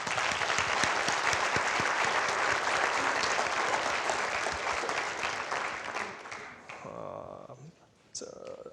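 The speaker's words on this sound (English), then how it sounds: "let's give them a round of applause" A conference audience at a youth entrepreneurship event claps in sustained applause that holds steady for several seconds, then thins out and fades, with a voice coming in near the end.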